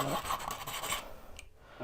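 Slightly wetted sandpaper rubbed against the end of a tube, giving a soft, close rasping scrape in quick repeated strokes that stops partway through.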